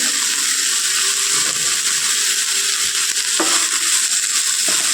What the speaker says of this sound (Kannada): ಇವನ್ನೆಲ್ಲ ಒಂದು 5 ನಿಮಿಷ ಫ್ರೈ ಮಾಡ್ಕೋಬೇಕು.